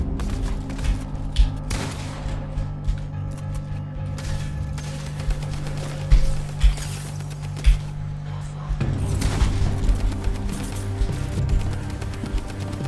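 Fortnite drum gun and shotgun fire, with bursts of rapid shots and occasional heavier single blasts scattered across a busy stretch of game action, some louder, some more distant.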